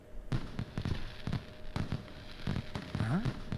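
Fireworks going off in the video game Danganronpa 2, a series of sharp popping bursts at irregular intervals with crackling between them, fairly loud and without talk.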